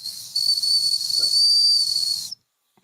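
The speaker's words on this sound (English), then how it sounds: "needs the grape whistle" A shrill, sustained whistle blows for about two seconds at close range, then cuts off abruptly into silence.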